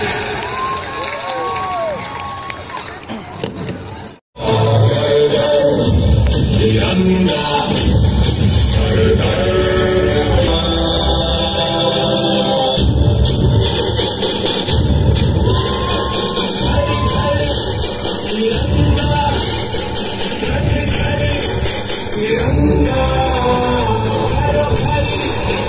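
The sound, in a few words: applause for soldiers at Republic Day celebration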